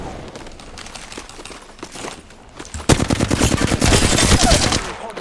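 Gunfire in an Apex Legends match: bursts of rapid automatic shots, loud and close, building into a dense continuous barrage in the second half.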